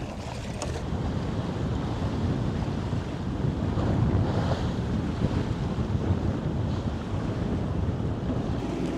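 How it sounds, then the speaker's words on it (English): Steady wind roars across the microphone over the wash and slap of ocean waves against a sailboat moving on a beam reach in Fiji, loud and continuous throughout. "the wind and the waves are gonna die pretty soon"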